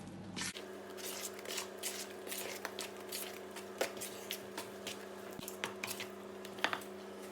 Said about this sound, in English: With the spoon, mix it through.